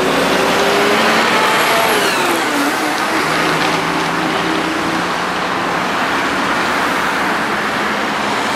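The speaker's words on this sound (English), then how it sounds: "Got lots of lorries, you can see." Heavy lorries and other traffic rolling past at a roundabout, a loud continuous roadway roar with engine drone and a brief hiss like an air brake, heard from close by during horse-drawn carriage driving training.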